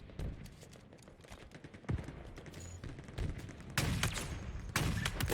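Rapid bursts of video game gunfire in Halo Infinite during a big team battle, clustered shots and volleys growing louder and denser toward the end.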